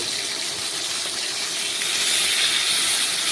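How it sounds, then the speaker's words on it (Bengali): A piece of rohu fish sizzles in hot oil in a frying pan, a steady close hiss of frying that swells slightly louder toward the end, with no talk over it. "আমি রুই মাছের এক পিস এক পাশ ভেজে নেব"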